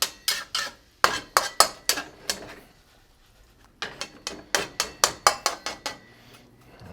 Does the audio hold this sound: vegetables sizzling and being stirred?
yes